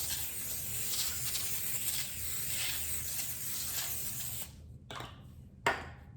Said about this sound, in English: I'm gonna spray it with a little bit of olive oil